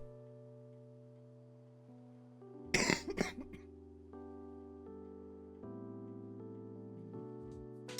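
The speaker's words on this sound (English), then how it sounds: "But I can still cough, can't I?" A single person coughs and clears their throat in a short burst, heard over a steady game soundtrack with sustained tonal music.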